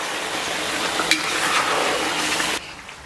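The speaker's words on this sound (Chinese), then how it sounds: "再下到锅中，继续简单给它煸炒一下" Star anise, cinnamon, bay leaves, white angelica, tsaoko, nutmeg, Sichuan peppercorn, fennel and dried chili sizzling as they are stir-fried in a wok with beef, a steady loud hiss with a spatula clink, cutting off near the end.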